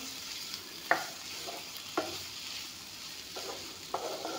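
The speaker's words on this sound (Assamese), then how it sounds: "এইখিনি অলপমান ভাজি ল'ম, যিহেতুকে পিঁয়াজ জলকীয়াখিনি দি দিলোঁ" Quiet, steady sizzle of onions and chilies frying in a pan, with a few soft clicks and scrapes of a utensil stirring at irregular intervals.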